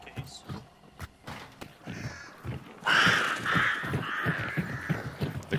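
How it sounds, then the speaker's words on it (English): Agitated crows cawing in the video game Hunt: Showdown, repeated harsh caws at moderate distance over a low background, growing louder and more insistent after the first few seconds. "The crows are very agitated here."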